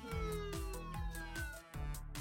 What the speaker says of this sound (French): On a la sirène.